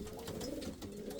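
Low, soft cooing from a pouter pigeon, a murmuring throaty call that carries on through the short stretch, heard close and fairly quiet with no voices.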